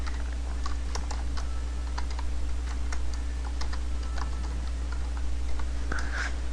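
Faint, scattered tapping clicks from typing a game name on an Android phone's on-screen keyboard, set against a constant low electrical hum.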